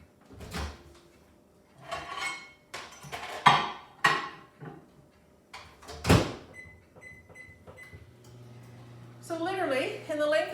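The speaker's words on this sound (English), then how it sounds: "Put the lid on it to seal it and stick it in your microwave." A potato steamer with its lid on is set into a microwave, giving a series of knocks and clatters, a firm door shut, a few electronic beeps and then the oven's humming start, with speech over parts of it.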